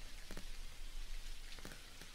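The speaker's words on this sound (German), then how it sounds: "Wie es regnet ja, ne?" Rain falling in the video game Dinkum, a faint steady patter of raindrops on surfaces with a few louder droplet taps, heard alone without talk.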